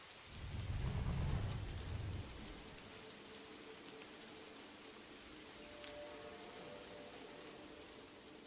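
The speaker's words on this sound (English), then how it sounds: "like this place does not feel any better at all with it raining" Steady rain hissing down with a low rumble of thunder rolling through early on, then fading to a constant soft downpour.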